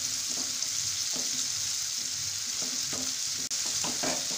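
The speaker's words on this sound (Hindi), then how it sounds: "थोड़ा सा इसमें हम नमक डाल देंगे और टमाटर को गलने तक हम फ्राई कर लेंगे।" Tomatoes and onions with a little salt fry in a pan over medium-high flame for a malai kofta gravy, giving a steady close sizzle broken by repeated stirring scrapes, with no talking.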